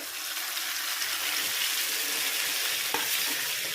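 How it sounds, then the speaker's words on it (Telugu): Pounded raw mango and tomato chutney sizzles and fries in a hot pan, a steady dense crackle with brief stirring scrapes and no voices. "ఇప్పుడు ఇవి దంచుకున్నటువంటి పచ్చడి వేసుకోవాలి"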